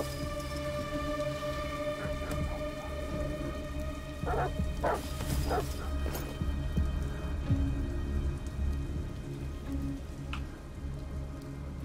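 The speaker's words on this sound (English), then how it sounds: "Goddamn dogs." Dogs bark in several short bursts over steady rain and a low storm rumble in the video game Detroit: Become Human, fairly close and moderately loud against the continuous wash of rainfall.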